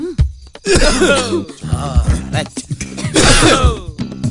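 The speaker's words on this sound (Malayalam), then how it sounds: "ചുമക്കാൻ മറക്കരുത്, ടൈമിംഗ് ആയിരിക്കണം." Several forced coughs and throat-clearing bursts come in quick clusters, close and loud, with short pauses between them.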